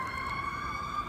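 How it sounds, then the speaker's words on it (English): Emergency vehicle sirens, fire trucks among them, wail steadily in the distance during a sleet storm, a faint sustained tone over low traffic rumble. "I'm sure you guys can hear the sirens in the background."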